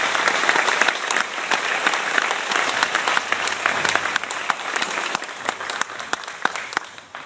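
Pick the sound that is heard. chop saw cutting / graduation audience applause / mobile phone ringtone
graduation audience applause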